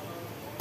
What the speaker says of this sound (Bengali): আমার তো প্রচন্ড কাশি লাগছে।